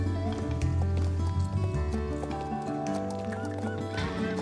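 In a video game, a horse neighs while its hooves clip-clop, heard under continuous tonal game music at moderate loudness.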